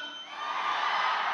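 An audience at a film pre-release event shouts and cheers, a dense, loud roar of many voices swelling briefly.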